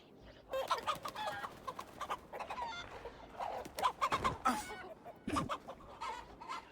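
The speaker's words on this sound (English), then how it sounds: "the chickens in this game are pretty dangerous, man. They've clucked at me a few times." Chickens in the video game Assassin's Creed Valhalla clucking in short, uneven bursts, fairly close and moderately loud, with no talking over them.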